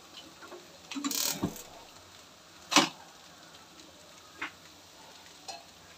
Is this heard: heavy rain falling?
no